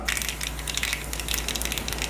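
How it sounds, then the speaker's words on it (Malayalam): Rapid, dense crackling and popping of mustard seeds sputtering in hot coconut oil, a continuous sizzle with sharp irregular pops, close and fairly loud. "കടുക് ഡബടപടേ നമ്മൾ പൊട്ടുന്ന സമയത്ത്"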